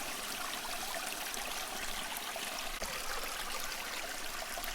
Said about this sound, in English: The water flows away into the forest, nourishing all that lies within it.